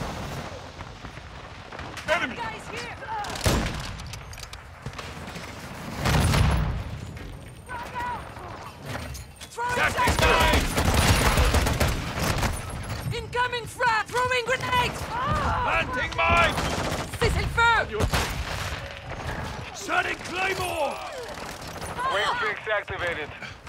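Gunfire and explosive blasts from a shooter video game rattle through a busy firefight, with sharp bursts and heavy booms scattered across the scene while a voice talks over much of it.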